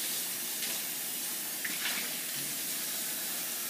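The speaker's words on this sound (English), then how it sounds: "Turn back on the hot and cold water." Water runs steadily from hot and cold taps into a sink as a dish is rinsed, a constant close hiss of flowing water with no speech.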